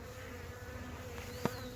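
A colony of honeybees buzzes steadily, humming close by as they are dumped into a hive box, with one brief sharp knock partway through and no talking.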